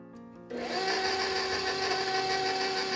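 A stand mixer whirs steadily as it beats red velvet pound cake batter, starting up loud and close after a brief quieter moment and running continuously without talk.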